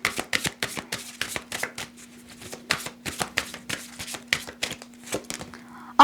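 Astrological cards being shuffled during a Gemini horoscope reading, a fast series of sharp riffling snaps in irregular bursts with a steady faint hum underneath.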